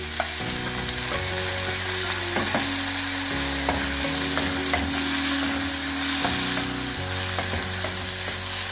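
Chopped banana flower and tomato sauté in a hot pan, a steady close sizzle broken by scraping stirs and light clinks of the spoon, with no voices.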